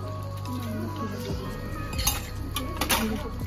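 Dishes, pots and pans are washed by hand in a home kitchen, with scattered clinks of cutlery and crockery over running water and a steady background hum.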